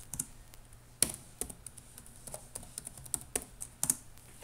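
Someone types a password on a computer keyboard, a quiet, irregular run of soft key taps with a few sharper clicks, close and fairly faint, with no talking.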